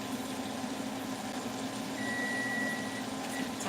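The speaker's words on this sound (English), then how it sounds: "Timer." A kitchen timer sounds one steady, thin electronic tone lasting about a second, faint and partly buried in low background hum from a home kitchen where roasted broccoli is being made.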